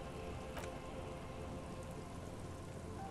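Steady, even rain in the video game Disco Elysium patters and hisses onto water throughout, soft and continuous, with no other sounds.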